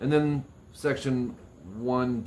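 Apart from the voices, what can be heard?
None of the usual background noises is heard.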